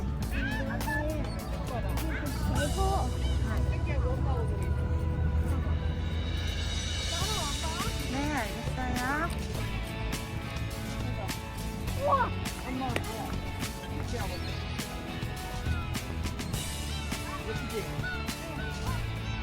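Large waterbirds, a seagull or crane, call in repeated honking cries heard from inside a moving car, set against steady road and engine rumble, with speech and background chatter mixed in.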